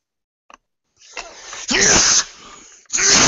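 A person sneezes up close indoors, one sharp sudden burst with a wheezy lead-in, followed shortly by a second explosive burst.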